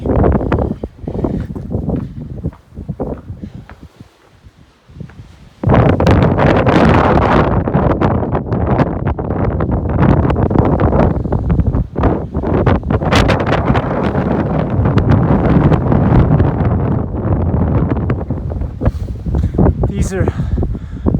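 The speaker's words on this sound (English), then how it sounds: "So windy." Strong wind on Old Rag mountain buffets the microphone in loud, roaring gusts, rumbling and blustering almost continuously after a brief calmer moment.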